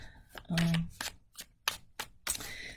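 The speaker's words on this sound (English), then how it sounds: "I'm just going to pull general cards to see what's going on." Tarot cards being riffle-shuffled and pulled from the deck: a few crisp, papery bursts and flicks, close up, alongside a soft voice.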